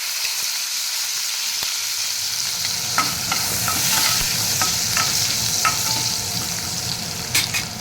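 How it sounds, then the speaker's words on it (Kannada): Cumin, mustard seeds, green chillies and curry leaves sizzle and crackle in hot oil for a dal tadka tempering, with a steady frying hiss, sharp popping seed bursts and spoon stirring, close and alone without talk. "ಜೀರಿಗೆ, ಸಾಸಿವೆ ಸಿಡಿಯೋಕ್ಕೆ ಸ್ಟಾರ್ಟ್ ಮಾಡಿದ ಮೇಲೆ ಸಣ್ಣದ ಒಂದು 2-3 ಹಸಿಮೆಣಸಿನ್ಕಾಯಿ, 1-2 ಕರಿಬೇವು ಹಾಕಿ ನೀಟಾಗಿ ಫ್ರೈ ಮಾಡ್ತೀವಿ."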